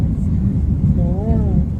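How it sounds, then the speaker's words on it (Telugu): Airliner cabin during the climb after takeoff, a loud, steady low engine rumble filling the space, with a voice briefly rising over it. "మనం ఫ్లైట్లో పోతున్నాం పైకి"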